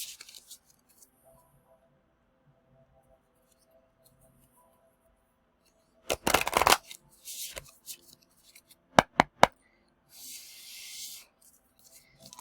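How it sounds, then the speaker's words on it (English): Oracle cards being shuffled by hand in a quiet room, several short crisp riffling bursts separated by silence, close and clear. "I shuffle 3 times, and I knock 3 times."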